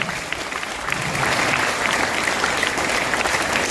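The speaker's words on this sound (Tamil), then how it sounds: "அம்மா அவர்களை எல்லாரும் கைத்தட்டி நன்றியை தெரிவித்துக் கொள்வோம்" A school assembly audience at a government higher secondary school's education development day claps to thank an organiser, a dense, sustained wash of applause that swells slightly and holds steady throughout.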